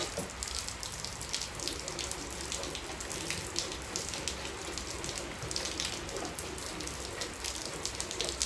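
Steady rain pours down outdoors on a farm during milking, a dense, even wash of hiss with patter and splashing throughout, no voices.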